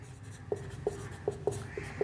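Chalk or a marker taps and scratches on a board during a maths class, with five short, crisp strokes spaced irregularly and nearby, over a faint room hum.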